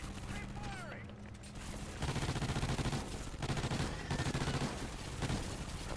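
Automatic gunfire crackles in a Call of Duty video game, coming in several rapid sustained bursts over busy in-game background noise.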